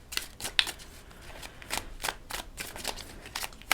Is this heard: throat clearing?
no